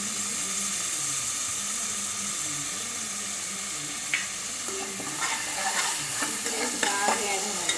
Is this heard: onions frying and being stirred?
yes